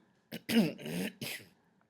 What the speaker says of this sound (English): excuse me, I have to keep clearing my throat.